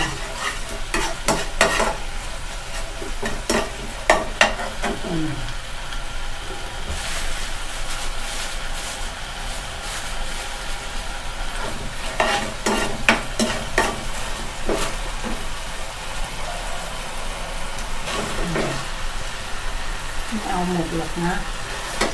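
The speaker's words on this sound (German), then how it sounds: "Alles umrühren." Thai food stirred in a sizzling frying pan, with a steady hiss of frying throughout and repeated scraping strokes of the utensil against the pan.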